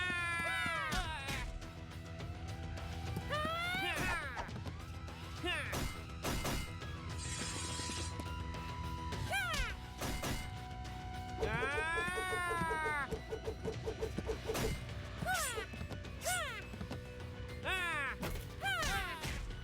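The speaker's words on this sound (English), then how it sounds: "Masita and Silent met face to face, and a fierce battle for the Hello Kitty cat began" Cat meows rise and fall repeatedly amid a chaotic Roblox video game fight over a Hello Kitty cat, mixed with crashes, whacks and loud game music, a busy, dense soundscape.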